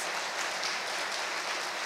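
Church congregation applauding during a sermon, a steady wash of many hands clapping at moderate distance, continuous and even with no voices on top.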